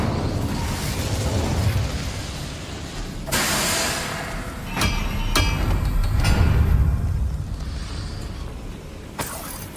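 The Incendio fire spell being cast in Hogwarts Legacy at night: several sharp, bursting whooshes and pops stand out against a rumbling, crackling fire-and-combat background, each burst loud and close.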